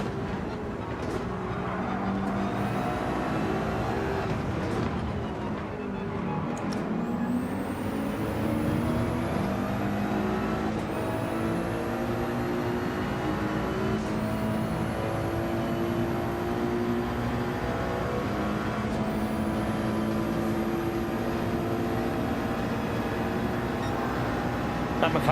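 McLaren race car engine in Gran Turismo 7, a steady high-revving drone with repeated rising pitch sweeps as gears change, loud and continuous throughout with other cars mixed in.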